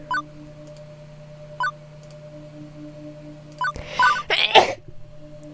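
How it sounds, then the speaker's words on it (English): A person sneezes once after a build-up of sharp breaths and soft clicks over a low background hum, the burst near and fairly loud before settling. "I have to sneeze."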